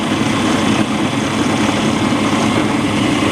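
A power drill bores through wood with a 13 mm bit while a diving lamp is being built, giving a loud, steady motor whine and grinding drone that runs unbroken with no talking.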